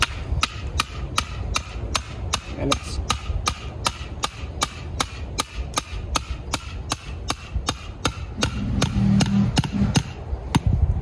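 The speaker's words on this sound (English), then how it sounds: "we're going to just hammer it in" A drip irrigation stake is hammered into hard clay soil beside a lime tree: about two dozen sharp, evenly spaced strikes in a steady rhythm, close and crisp, with a brief spoken phrase.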